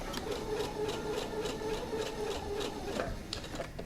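A sewing machine stitches soutache braid under the presser foot, a close, steady rapid mechanical whir with a regular rhythmic chatter, continuous for the whole stretch without talk.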